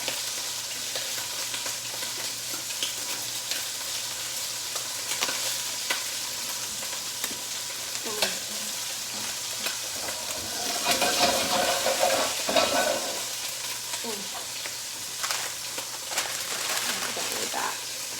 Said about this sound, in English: Throw them in there, sizzling away.